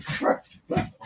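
A puppy lets out two short, high barks close by, separated by a brief pause, each sharp and fairly loud with no talk over them.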